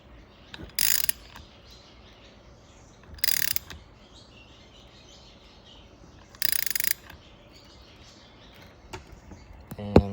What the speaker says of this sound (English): Just tighten on this nut a little.